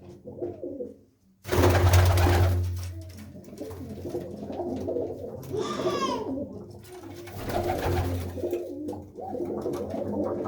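Pigeons kept by a fancier at the Bheni fair coo repeatedly at close range, with soft murmuring calls and a sudden loud rustling burst near the start.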